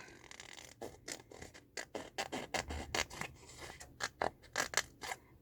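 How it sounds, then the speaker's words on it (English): Scissors snip through cardboard in a quick series of close, crisp cuts with a dry scraping rasp. "So we're just going to use some scissors."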